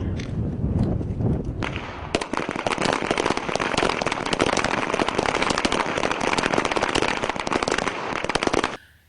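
Handgun shots ring out during a Weaver stance shooting demonstration, a rapid continuous barrage of sharp cracks lasting several seconds, loud and close, before stopping abruptly.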